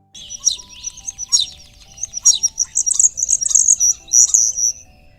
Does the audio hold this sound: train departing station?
no